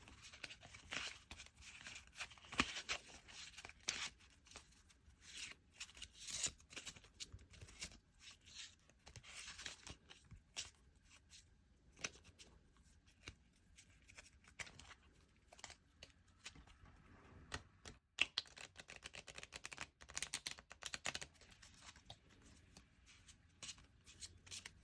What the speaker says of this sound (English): Shuffle them a little bit better than the last batch.